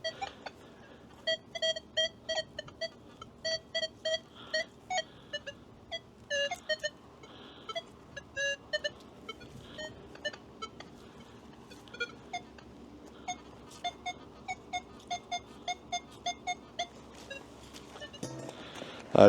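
Short electronic beeps and warbling target tones from a Nokta Legend metal detector chirp irregularly in quick bursts over faint background hiss, no talking, while searching hard-packed sand.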